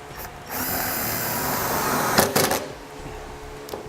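A self-tapping screw is driven through a ring terminal while installing a Roadmaster Universal Hy-Power diode wiring kit on a 2017 GMC. A steady close-up mechanical whirring and ratcheting runs for a few seconds, ending in a couple of sharp clicks.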